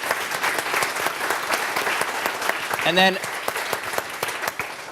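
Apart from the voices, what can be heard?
audience applause for the organizers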